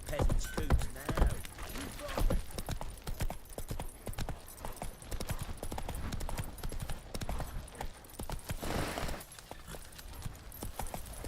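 Steady clip-clop of a horse's hooves trotting over ground in The Witcher 3, continuous and fairly close, with a brief voice line over the rhythmic footfalls.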